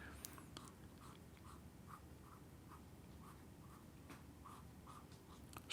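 A fine Yovo nib and feed on an Asvine fountain pen glides across paper in soft, steady scratchy strokes, faint and close with a quiet room hiss underneath and no voices.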